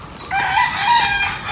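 A rooster crows once, loud and close, a short drawn-out call standing alone in a rural yard.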